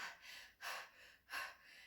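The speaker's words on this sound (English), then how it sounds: "you start gasping for air and you really struggle to get air into your chest and you breathe rapidly like this" Quick, quiet gasping breaths drawn in a steady rhythm, about three rushes of air in under two seconds, close and alone with no speech.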